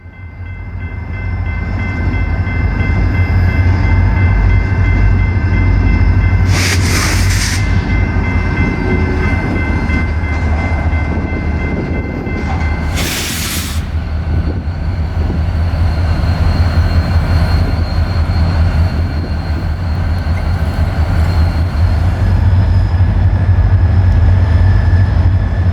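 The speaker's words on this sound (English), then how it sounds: "drive down the road to instantly get stopped by a train" A BNSF train in Tulsa rumbles past steadily for the whole stretch, a loud continuous low roar with grinding, rolling rail noise and two brief bright hissing bursts.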